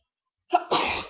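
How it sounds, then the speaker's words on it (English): A single close sneeze bursts out after a short silence, a quick sharp intake followed by a loud breathy blast that trails off. "been really sneezing today in the morning"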